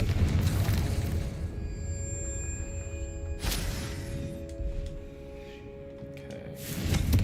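Confringo fire spell in Hogwarts Legacy bursting into a loud, close explosive boom, with a second sharp blast midway and another swell at the end over rumbling game ambience.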